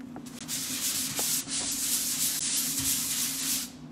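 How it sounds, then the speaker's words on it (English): Steady, close abrasive rubbing of a Velcro sandpaper hand glove smoothing dixie mud on a wall panel, continuous broadband scratching with slight pauses, no talking. "That is a piece of sandpaper, and it goes on your hand like that in a glove."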